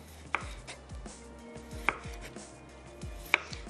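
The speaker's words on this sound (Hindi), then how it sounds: "मैं गोल स्लाइस काट लेती हूँ" A knife slices round pieces on a cutting board in a steady, unhurried rhythm of soft thuds, with a few sharper knocks standing out, in a quiet kitchen.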